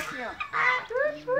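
Geese on a small farm give several close, loud honks in quick succession, with other fowl around.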